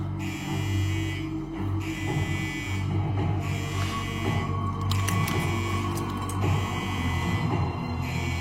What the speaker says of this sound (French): C'est sûrement une alarme défectueuse. Je cherche à savoir d'où elle provient.